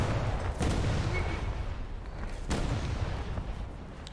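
Heavy gunfire in a naval combat game strikes a small boat, with two sharp impacts standing out over a steady roar of engine and battle noise at moderate distance.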